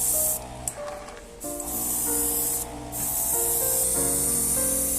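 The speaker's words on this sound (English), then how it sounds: "After simple sanding, start to spray gray primer." Gray primer sprayed from an airbrush or can onto a sanded 1/600 scale Poseidon ship model, with several loud hissing bursts and short pauses over steady background music.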